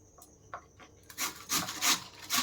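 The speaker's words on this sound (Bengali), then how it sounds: "দুটো আলুকেই আমি ভালো করে গ্রেড করে নেব প্রথমে" Raw potatoes rubbed over a small grater, a rhythmic rasping scrape in four or five close strokes after a few light taps, with no talking.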